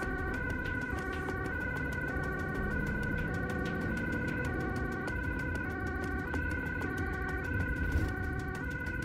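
A loud ambulance siren wails continuously in a repeating two-tone pattern over steady road rumble, approaching through rush-hour traffic where the A4 and A10 highways merge in Amsterdam.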